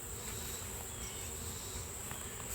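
Bees buzzing around an open nuc hive during an inspection, a steady, close insect drone with a sustained high whine, continuous and fairly faint, with no voices.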